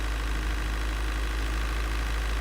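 A looped bus engine sound from the Bus World bus simulator game, a steady droning hum with a strong low rumble and no variation, with no talking.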